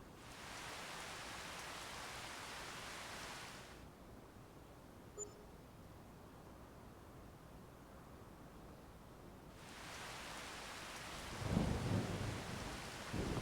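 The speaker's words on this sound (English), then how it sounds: "It's raining." Steady rain hissing in Farming Simulator 25, cutting out abruptly for several seconds before returning, with a low rumble of thunder rolling near the end.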